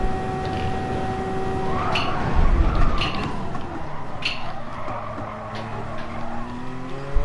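Race car engine from Gran Turismo Sport at Le Mans, a steady loud drone with rising and falling gear pitch, joined by tire squeal and skidding bursts around the middle, running continuously throughout.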